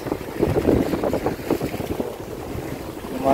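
A strong night wind gusts across a bagan fishing platform at Tanjung Kait, Tangerang. Rough, steady wind buffets the microphone, and faint sounds of water and the platform are mixed in.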